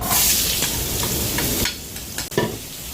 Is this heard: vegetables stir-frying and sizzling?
yes